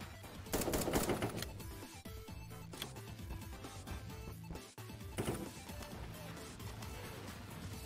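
Rapid bursts of assault rifle fire in the blocky online shooter Voxiom.io during a capture-the-gems match, loud and close, with a heavy volley early on and steady crackling shots continuing throughout.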